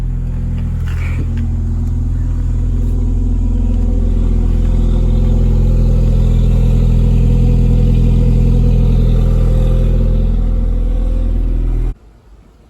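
A Dodge Dart with a manual transmission idles and rumbles steadily as it backs up slowly into shade on a hot day, a constant close engine drone that cuts off near the end.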